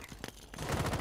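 Rainbow Six Siege gunfire rattles in quick, faint bursts, several rapid shots followed by a denser, muffled volley of rounds at the end.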